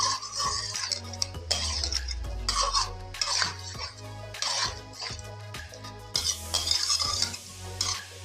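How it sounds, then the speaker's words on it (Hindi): Chicken pieces are stirred together with ground coriander and garam masala in a metal pot, heard as a series of scraping, clattering spoon strokes with faint sizzling between them, close and moderately loud. "फिर से इनको एक दफ़ा इस तरीके से मसालों को मिक्स करेंगे"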